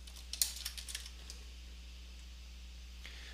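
Quick clatter of keys on a computer keyboard while a form title is edited, a short flurry of close, light taps followed by one or two isolated strokes over a low steady hum.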